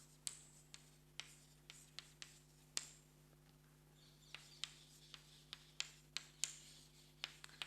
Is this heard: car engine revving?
no